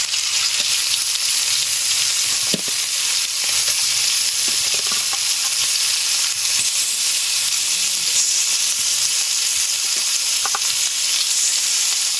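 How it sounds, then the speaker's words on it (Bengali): Loud, continuous sizzling of pomfret frying in smoking-hot oil in a wok, a bright steady hiss with occasional spits and pops. "এবার তেল দিয়ে নেবো, নিয়ে মাছটা এবার ভেজে নেবো"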